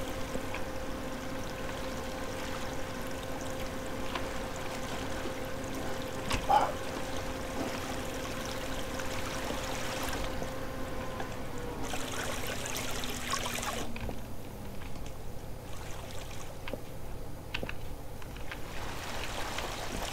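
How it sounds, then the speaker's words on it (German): Water is poured and flows in Minetest, the block-building video game, as a steady, faint trickle under a low background hum that stays even throughout. "ich fülle mal kurz ein bisschen Wasser"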